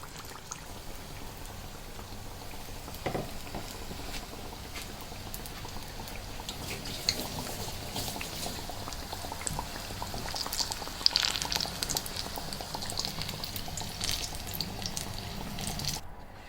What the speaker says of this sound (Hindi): तो ये सब इसी तरह मैं फ्राई करके साइड पे निकालती जाऊँगी।